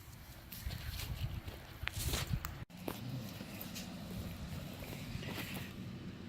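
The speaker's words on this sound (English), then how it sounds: "I'm going to pressure wash it. And yeah, you see all the gunk coming off already." Pressure washer spraying degreaser foam and gunk off Honda F23a engine parts, a steady, loud broadband hiss of water that runs almost the whole time, broken by one very brief cutoff partway through.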